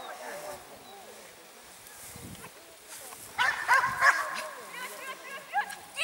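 A dog at a frisbee competition yips, whines and gives short barks in uneven bursts, close by and growing louder toward the end, with people talking around it.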